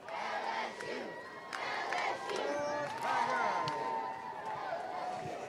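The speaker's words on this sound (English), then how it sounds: "you can see them all cheering" A large crowd of fans cheers and shouts continuously as the LSU baseball team returns to Baton Rouge after the College World Series, a dense roar of voices with whistles and yells rising and falling throughout.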